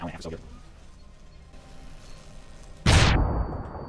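Boxes blow up in an explosion in Deus Ex: Human Revolution, a sudden loud blast near the end following a stretch of quieter game ambience, with a voice speaking briefly beforehand.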